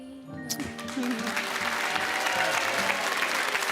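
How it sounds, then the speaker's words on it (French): Studio audience applauding loudly at a Valentine's Day television show, a sustained dense wash of clapping that swells after a brief start and holds steady, with a voice briefly audible beneath. "S'il vous plaît, on applaudit fort Germain Ariane."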